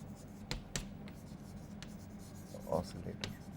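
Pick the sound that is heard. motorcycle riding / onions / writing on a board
writing on a board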